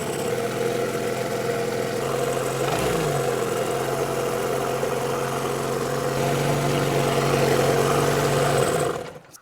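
Motorcycle engine fitted with a cheap carburetor idles high and steadily on its own, refusing to shut off despite idle adjustment; a continuous close mechanical drone that dips briefly then cuts out near the end.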